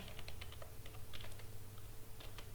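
Computer keyboard typing while C++ code is entered, a quick, uneven run of light key clicks heard close and alone at low level.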